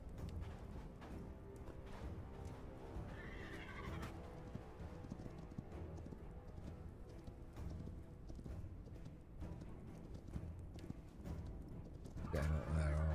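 A horse in the video game Hytale whinnies with a rising, wavering neigh amid steady clip-clop hoofbeats and game ambience, faint but clear.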